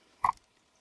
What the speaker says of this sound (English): I think what that noise is actually is the flow sensor that's measuring how much water is flowing